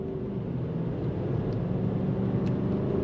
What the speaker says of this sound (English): we're gonna get out onto the highway here and do some on-throttle driving